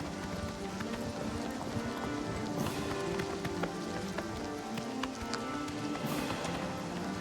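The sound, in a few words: horse galloping in a video game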